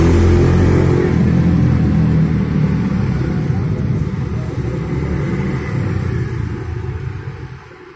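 Busy traffic on Jalan Panjang in front of Cidodol market in Kebayoran Lama, South Jakarta, forms a continuous dense rumble of passing engines, loud at first and slowly thinning toward the end, with no clear speech.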